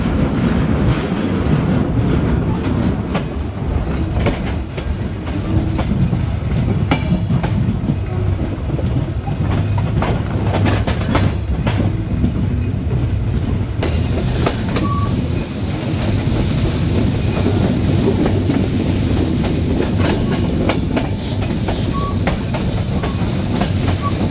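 The Kapotaksha Express (716) in Bangladesh rolls on its rails as it nears Ishwardi Junction, heard from on board as a loud, continuous rumble with wheel clatter and brief squeals.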